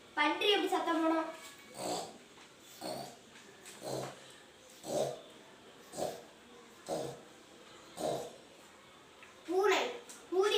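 A fourth-grade schoolboy at a primary school in Manguzhi mimics a pig with a steady series of short, breathy grunts about a second apart, quiet and close, opening and closing with brief vocal calls.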